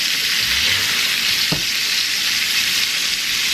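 Steak searing in a hot cast iron pan while being basted, a loud, steady hiss of frying fat with a brief clink of a utensil midway, no talking.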